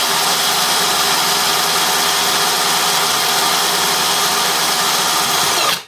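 An IRON WARRIOR LS-006 cordless chainsaw with a 12-inch bar runs steadily at a loud, constant whine for several seconds with no one talking, then cuts off abruptly at the end.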